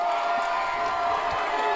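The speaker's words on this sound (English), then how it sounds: "And the crowd's getting loud." A football crowd at a high school game between West Branch and Pleasantville swells into a loud, continuous roar of cheering, a dense wash of voices that holds steady throughout.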